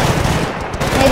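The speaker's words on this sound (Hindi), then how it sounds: "वो एक ऊपर खड़ा है मशीन गन चला रहा है वो" Rapid automatic machine gun fire in Battlefield: Bad Company 2, a dense, loud, continuous burst of gunshots with no clear gaps, heard alone for about a second.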